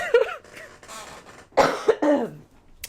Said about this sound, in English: I'm kind of under the weather, so that's why I'm coughing